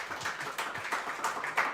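A small group claps at a boys basketball gathering in a pizza restaurant: brief, steady, fairly close applause of several hands with no talking over it.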